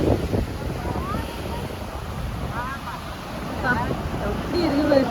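Waves wash onto a beach along the East Coast Road at night, a steady broadband surf roar with wind buffeting, while family members talk and call out nearby.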